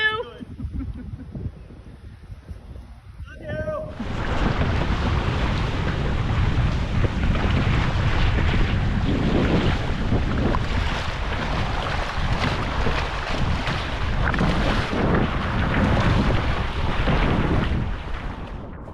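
After a few seconds of quieter sounds, loud rushing wind and water noise take over, a sailboat driving hard through the sea at around 10 to 12 knots in strong wind, buffeting continuously up close.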